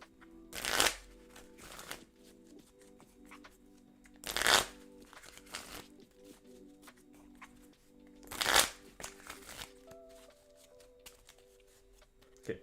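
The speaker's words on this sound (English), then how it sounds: "Okay, there we go. Shuffled up." A deck of Pokémon trading cards being shuffled close up, three distinct riffling bursts about four seconds apart with quieter card handling in between.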